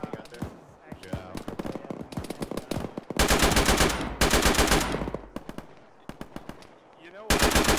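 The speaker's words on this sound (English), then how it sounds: "We have one of our ARs shooting out there." Automatic rifle gunfire in the military shooter Arma, loud repeated bursts of rapid shots with short pauses between volleys, close by and dominating, with speech heard between bursts.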